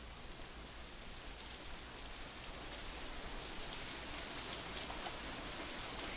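Steady, dense rain hiss from the visual novel game Katawa Shoujo, an even downpour without pause, fairly faint.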